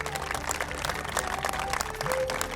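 Audience applause at a Kannada farm television program, a steady dense wash of clapping hands lasting throughout, moderately loud and unbroken.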